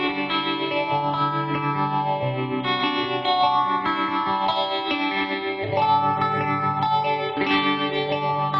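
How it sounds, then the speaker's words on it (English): Clean electric guitar through a Peavey amp with tremolo, chords and notes pulsing in steady wavering volume, played continuously with no talking. "here's a very nice, clean, tremolo affected sound."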